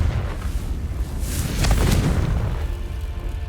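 A Confringo blasting spell explodes in Hogwarts Legacy, a single deep booming burst swelling in the middle and rumbling away, heard alone without talk.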